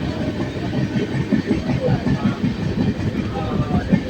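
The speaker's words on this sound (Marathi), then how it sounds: "स्लो चाललेली ट्रेन" A slow-moving train rolls past with low rumbling and soft rhythmic clatter, steady and moderately close, under a faint background murmur.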